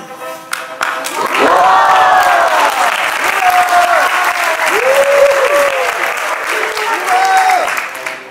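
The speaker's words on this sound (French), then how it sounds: "Et ils se marient le jour même, sous les acclamations de la foule." A crowd applauds at a prince's wedding, loud sustained clapping with musical tones sounding over it.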